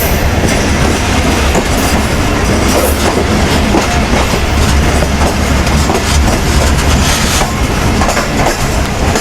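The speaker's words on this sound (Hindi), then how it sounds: "हम रायविंड से मूव हो चुके हैं और अब अगला स्टॉप होगा हमारा लाहौर जंक्शन" A passenger train rolls steadily onward after pulling out of Raiwind station toward Lahore Junction in Pakistan, with a continuous loud rumble and rhythmic clickety-clack of the wheels on the rails throughout.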